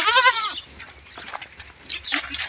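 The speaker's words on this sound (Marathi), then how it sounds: "अशी उत्तम क्वालिटीची शेळी आहे" A goat bleats loudly and close by in a farm shed, one wavering cry at the start, followed by quieter rustling and shuffling sounds from the pen.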